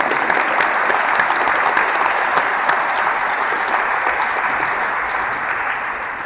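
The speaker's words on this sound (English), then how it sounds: "So let's give a huge round of applause for all of our educators and everything they do." A loud, sustained round of applause from an audience honoring educators at a Kentucky gifted education proclamation, dense and even, easing a little toward the end.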